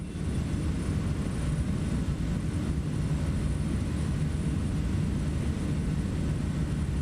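A SimWorks Kodiak 100 single-engine turboprop drones steadily in flight in Microsoft Flight Simulator 2024, a continuous low rumbling engine and propeller roar heard from inside the cockpit with no talk.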